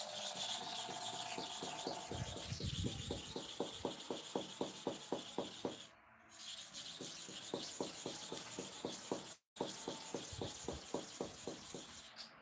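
Hair clipper blades are sharpened by hand, producing a close, rapid run of regular rasping strokes that pause briefly twice before the steady scraping starts again.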